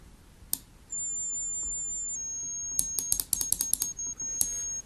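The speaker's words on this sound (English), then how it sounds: "what you're hearing now is a tone similar to the tinnitus" A steady high-pitched test tone, similar to tinnitus, holds for several seconds, then shifts slightly lower and continues under a burst of rapid keyboard-like clicks.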